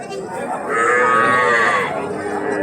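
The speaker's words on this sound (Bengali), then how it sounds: "ষাঁড় জাতের বাছুর, গাভী জাতের বাছুর, ছোট বাচ্চা বাছুর, ষাঁড় বাছুর" A young calf at a cattle market gives one drawn-out, close, loud moo that swells and fades, over a low background hum.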